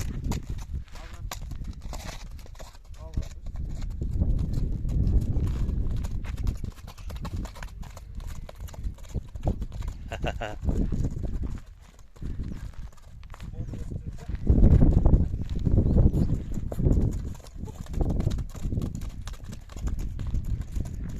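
Horses, including a young colt, walking across open steppe pasture, hooves clip-clopping in an irregular rhythm under frequent talk and calls from nearby people.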